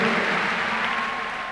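A congregation at a church service breaks into brief, steady applause, a dense wash of clapping that fades slightly by the end.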